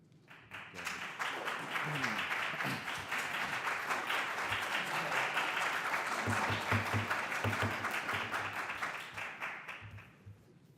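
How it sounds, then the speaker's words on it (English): Audience applause at a planning board meeting, a sustained burst of clapping that swells quickly, holds for several seconds, then tapers off, with a few voices and murmurs underneath. "Try and hold your applause if you would"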